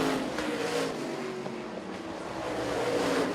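ISMA-MSS supermodified race cars roar around the Lancaster Motorplex track in a heat race, a fairly distant, steady engine drone that swells and fades as the cars pass.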